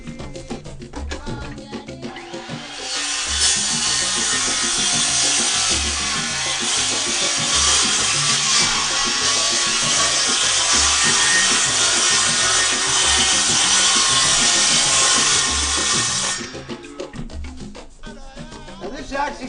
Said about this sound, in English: start on phase one, which is cutting the board